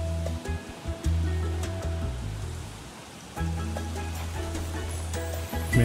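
Ocean surf washing onto the beach in the Coral Island farming game, a steady rushing wash that swells and ebbs, with a soft game music bed underneath.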